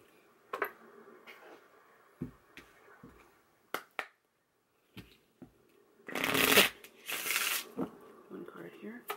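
Tarot cards being shuffled by hand, brief crisp riffles and taps at first, then a louder sustained riffling burst near the end, close and quiet with a voice speaking softly in between.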